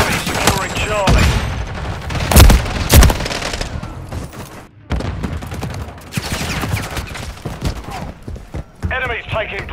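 Call of Duty: Modern Warfare 3 multiplayer gunfire on the Rust map, with loud bursts and heavy shots mixed with automated announcer callouts and game effects throughout.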